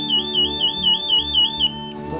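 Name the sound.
CO2 gas alarm sounding in a mine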